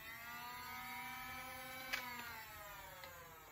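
Flywheels of a modified Nerf Vector Strife blaster rev to a high whine and then spin down, the pitch falling slowly; faint and close, with a small click partway through.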